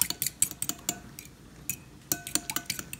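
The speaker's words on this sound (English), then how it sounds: "Then I'm going to stir them about just a minute here." A fork stirs raw eggs in a dish, giving a run of quick, close metallic clinks and taps against the bowl in uneven bursts, with brief quieter gaps between.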